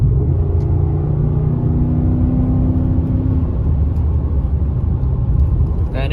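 A 2015 Ford F150 5.0 V8 fitted with a Black Widow Venom 250 exhaust, cruising in sixth gear at about 55 mph and given a little gas, with a steady low engine rumble and road drone, mild and fairly tame in tone.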